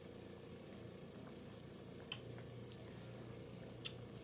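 Cheese sauce for from-scratch mac and cheese thickening and bubbling in a pan, a steady low simmering burble with faint soft pops, no talking.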